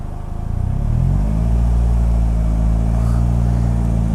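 A Polaris Slingshot's engine holds at low revs while its manual clutch slips in the friction zone, a loud, close, steady drone that rises slightly in pitch after the first second.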